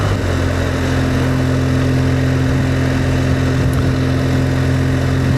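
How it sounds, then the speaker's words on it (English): A motorcycle in road mode pulls away in 4th gear from a closed throttle, its engine a steady, loud drone under heavy wind rush, with no clear rise in pitch. "I'll close the throttle, I'll open it up again, and we'll have an accelerate"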